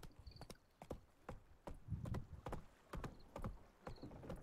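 Roach, the horse in The Witcher video game, walks at an easy pace, hooves clip-clopping in a steady sequence of distinct, fairly quiet strikes over a soft background.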